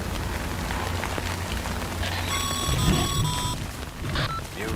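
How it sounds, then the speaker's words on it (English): Steady rain in the Death Stranding video game, a dense continuous hiss of falling drops with low rumbling ambience underneath and a few electronic tones briefly sounding over it. "Good thing it was raining."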